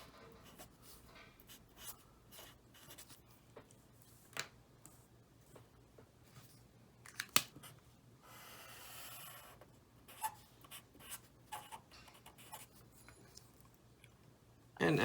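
A pen or marker scratches across a board in short, quiet strokes while a number line is sketched, with separate faint taps and scrapes and long pauses between them.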